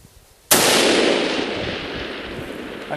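A single loud Savage Axis 22-250 rifle shot cracks sharply outdoors, then rolls away in a long fading echo lasting a few seconds.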